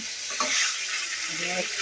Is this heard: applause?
no